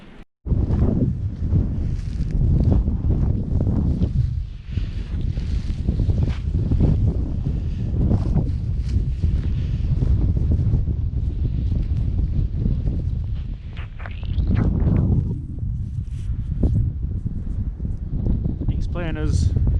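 Steady wind buffets the microphone in the mountains of South Westland, a continuous loud rushing roar that swells and eases throughout.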